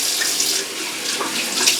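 Tap water runs steadily into a sink while a man wets his face before shaving, a continuous close splashing hiss with small irregular splashes and no talking.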